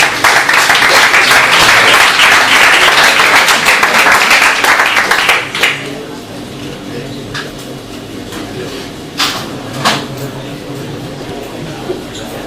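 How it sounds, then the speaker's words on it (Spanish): An audience at a science talk claps loudly for about five seconds, then the applause fades to scattered claps and quiet room noise with a few stray handclaps. "Un aplauso."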